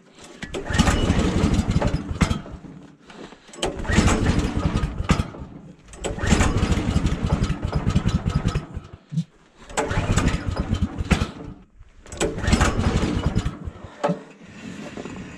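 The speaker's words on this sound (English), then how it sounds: "good thing about starting an engine in the winter here, you get yourself warmed up before the engine" A portable sawmill engine is pull-started in freezing winter cold, with five loud, close bursts of cranking and sputtering that die away between attempts, each separated by brief near-silence.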